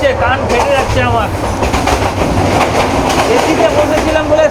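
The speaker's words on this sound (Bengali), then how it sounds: "পুরো ধুলো উড়িয়ে কিন্তু চলছে আমাদের ট্রেন।" A Chittagong-to-Dhaka intercity passenger train runs at speed, heard loud and close from the open coach doorway, with a continuous roar and rattling clickety-clack of wheels on rails, plus brief squealing tones; a voice speaks over it.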